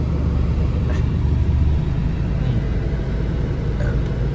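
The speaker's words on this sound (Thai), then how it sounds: "รถกำลังทยอยกันเข้ามา" Cars rolling into a truck festival, a steady low rumble of engines and traffic holding throughout, with a busy outdoor crowd murmuring over it.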